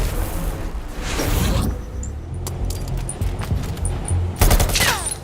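Video game gunfire aimed at targets that pop up, a rapid series of sharp shots and bursts close and loud, with brief whooshing effects in between.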